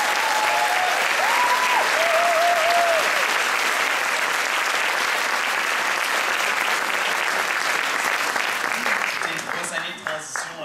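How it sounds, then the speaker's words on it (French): Sustained, dense applause from a large crowd at a school jazz band show fills the space, steady and loud before thinning out near the end, with a brief voice early on. "Ils ont eu beaucoup d'applaudissements aujourd'hui"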